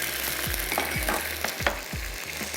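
Garlic and ginger paste hitting golden-brown onions in a hot pan, giving a close, steady sizzle and fry with several rhythmic stirring scrapes.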